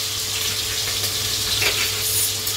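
Onion and tomato go into hot oil for a mutton dish and fry with a steady close sizzle, lightly stirred, with a brief splashy flare near the middle.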